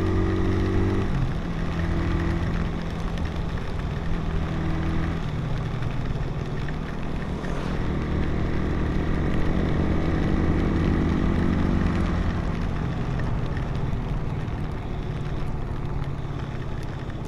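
A secondhand carbureted Raider 150 Star Edition motorcycle idles nearby, giving a steady, continuous low engine drone that holds an even level throughout.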